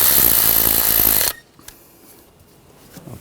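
A power tool whirs loudly to tighten a screw on the 2.0L engine of a 2013-2019 Ford Escape during a valve timing solenoid replacement, then cuts off abruptly, leaving faint clinks close by.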